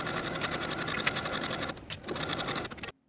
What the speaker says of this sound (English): Now we can start sewing at the point, backstitching to secure